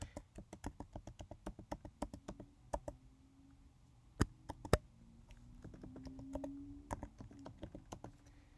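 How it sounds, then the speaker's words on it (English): Typing on a computer keyboard while filling in an account registration form, with quiet, close, irregular clicking keystrokes in quick bursts, a couple of sharper louder taps midway. "I'm going to type in my first name"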